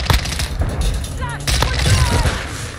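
Full-auto fire from the X13 pistol in Modern Warfare 2 comes as sharp bursts of rapid shots and booms with scattered impacts and game effects in between, loud and close, with some voice mixed in.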